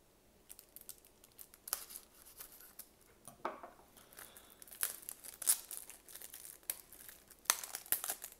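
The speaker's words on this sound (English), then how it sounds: "let's cut one of these open," A Marvel Deadpool and Friends trading card pack is cut open, giving scattered crinkling, snipping and tearing sounds that grow busier toward the end, close and fairly quiet.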